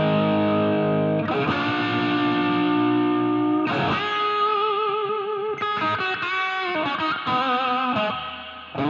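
Electric guitar played through a compact smart mini amp using an amp preset with an impulse response and reverb: sustained chords ring out, then a new strummed chord and several choppy plucked notes follow, trailing a spacious reverb tail, with no talking.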